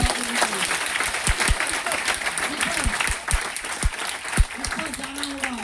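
Audience applause at a business meeting in Patna, brisk crowded clapping with sharp individual claps standing out, while people call out and talk over it.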